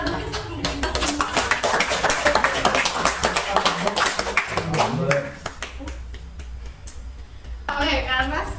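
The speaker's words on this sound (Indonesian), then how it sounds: "tepuk tangan untuk kita semua." A classroom group claps hands together in a dense, steady burst for about five seconds, fading into quieter room noise before a voice speaks near the end.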